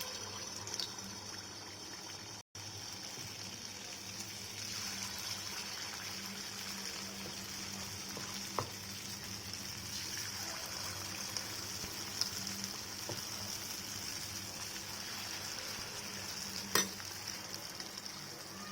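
Spoonfuls of leftover dosa batter fritters (punugulu) frying in hot oil, a steady close sizzle and bubbling hiss throughout with occasional small pops and crackles.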